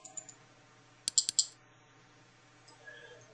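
A computer mouse clicks in quick pairs, a tight burst of sharp, close clicks in the middle of an otherwise quiet stretch, with a few faint taps around it.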